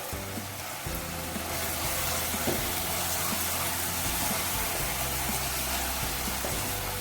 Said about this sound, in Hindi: लो फ्लेम पे हमने 3 से 4 मिनट के लिए इस मसाले को अच्छे तरीके से पकाना है।